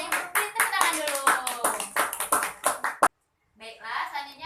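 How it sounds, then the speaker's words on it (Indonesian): Schoolchildren in a classroom clap their hands in a quick rhythmic pattern of sharp, close claps for about three seconds, then a brief silence and a softer burst of clapping. "Tepuk tangan dulu."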